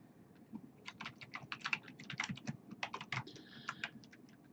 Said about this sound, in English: In this upper left-hand corner, you should type your name.